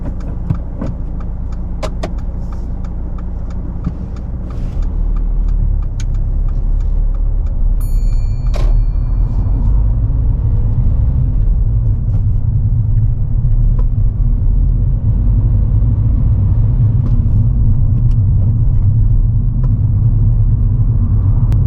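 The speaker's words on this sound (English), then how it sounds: "Drive off when you're ready." A learner driver's car pulls away during a driving test, its engine rumble rising and staying steady and close from about five seconds on, after a quieter idle with a few faint clicks inside the cabin.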